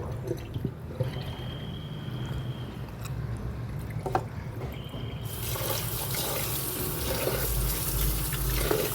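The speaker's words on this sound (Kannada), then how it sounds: "ಫಸ್ಟ್ ನೀರು ಹಾಕಿ ಒಂದೆರಡು ಟೈಮು ಕ್ಲೀನಾಗಿ ತೊಳಿಬೇಕು" Running tap water splashing over poha (flattened rice) as it is rinsed in a kitchen, a steady near stream that grows louder and fuller partway through, with faint drips and no talk.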